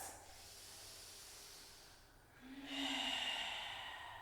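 Deep breaths are taken during a yoga balance pose, a long airy inhale followed by a fuller, louder hissing exhale, close and alone without speech.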